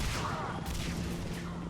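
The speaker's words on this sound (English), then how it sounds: "Jeez, look at all these explosions." Explosions and gunfire from a Mass Effect 3 battle form a dense, continuous wash of booms and crackling shots, with some sharper bursts in the middle, all at a steady loud level and no clear voices.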